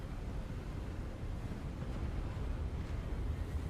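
Wind blows steadily in Hogwarts Legacy during a climb, a low, even rushing roar that fills the whole stretch without gusting breaks or speech.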